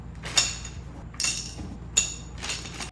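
Small metal screws from a PC build set down into a storage box, giving four sharp, light clinks spaced about a second apart in a quiet room.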